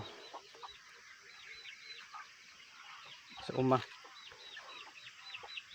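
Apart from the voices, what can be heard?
chickens clucking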